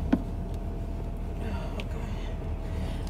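A car engine idling while it warms up, a low, steady rumble held quietly throughout with a faint click near the start.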